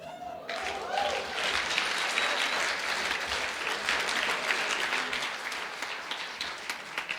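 Church audience applauding children after a Christmas show, sustained dense clapping from a crowd lasting several seconds, fairly even in loudness, with faint voices mixed in.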